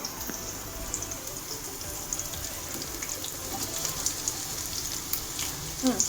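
Onions frying in a pan for crab gravy, a steady soft hiss and crackle with faint scattered pops throughout, close and moderately quiet.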